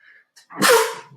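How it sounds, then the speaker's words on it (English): A single loud, close sneeze bursts out after a couple of faint breathy sounds, with no talking around it. "Y'all gonna hear me sneeze and don't say bless you."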